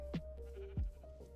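Two short sheep bleats from a video game, each a quick wavering cry, sound faintly over a low steady hum.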